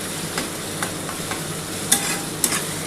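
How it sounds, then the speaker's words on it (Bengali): Chicken masala being stir-fried in a pan for a chicken dak bungalow curry, with a steady broadband sizzle and a few sharp scrapes of the spoon against the pan, close and alone. "খুব ভালো করে কষতে হবে বন্ধুরা।"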